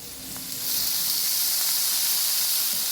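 A peanut kharda mixture roasting in oil in a pan gives off a steady, close hiss and sizzle that swells early on and then holds evenly, with no talking.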